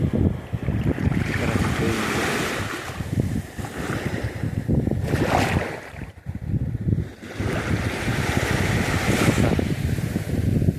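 Sea waves wash onto the Kyrylivka seashore, with swelling surges and wind gusting across the microphone, rising and receding in slow rhythmic pulses, loud and close.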